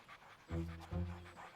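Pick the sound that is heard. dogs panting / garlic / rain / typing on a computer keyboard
dogs panting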